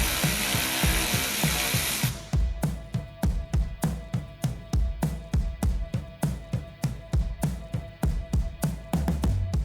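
A ratchet works a 13mm nut loose on a 2024-2026 Chevy Silverado running-board install, first with a brief rough whir, then a long run of evenly spaced, close, loud clicks.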